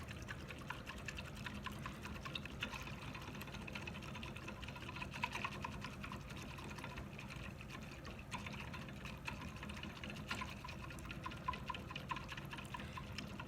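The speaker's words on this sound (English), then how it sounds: "I'm going to start to whisk that together" A whisk stirs aloe gel and alcohol together in a bowl for homemade hand sanitizer, making quiet, rapid, rhythmic clicking and sloshing that continues steadily for over ten seconds, close but faint, with no talking.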